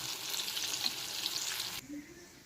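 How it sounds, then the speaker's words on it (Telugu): Bitter gourd pieces frying in hot oil, a steady bright sizzle with soft stirring, close and fairly loud, cutting off abruptly near the end to a quieter low background. "కొద్ది క్రంచీగా వచ్చేలాగా వేయించుకోవాలండి."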